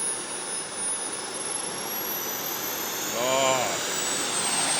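Homemade jet turbine engine idling at about 52,000 RPM, a loud steady roaring hiss with a high whine rising slowly in pitch, close up, with a brief voice partly buried under it.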